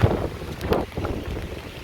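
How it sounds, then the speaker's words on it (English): Strong wind from a supercell storm buffets the microphone in a low, rumbling roar, with a heavier gust surging briefly partway through. "There's a big gust."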